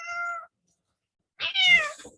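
An unhappy house cat meows twice up close indoors, a short tonal cry followed after a pause by a louder, harsher, rising-and-falling yowl.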